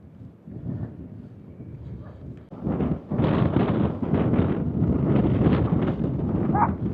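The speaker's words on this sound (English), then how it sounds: "still very windy" Strong wind gusts at a beach, buffeting the microphone in rough, rumbling bursts that start moderate and turn louder and constant about halfway through.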